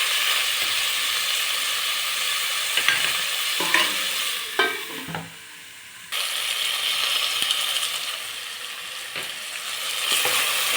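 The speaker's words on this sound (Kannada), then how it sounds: "ಟೊಮೊಟೊನ ಸಾಫ್ಟ್ ಆಗೋವರೆಗೆ ಬೇಯಿಸ್ಕೊಳ್ಳೋಣ." Tomatoes for veg pulao are stirred and fried in a pan, giving a steady close sizzle broken by scraping, clattering strokes of the spoon, with a brief quieter pause midway.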